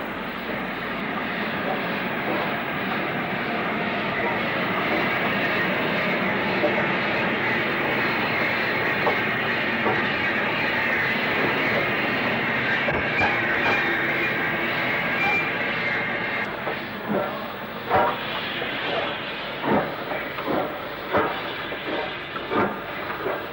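LMS Black 5 steam locomotive 44684 passing on the line near Crewe, a loud sustained rushing roar that fades into rhythmic clanking beats toward the end.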